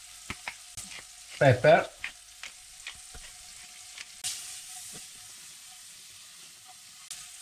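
Beef liver hits a buttered pan and gives a short, loud burst of sizzling frying, then settles into faint crackles, with a voice speaking briefly.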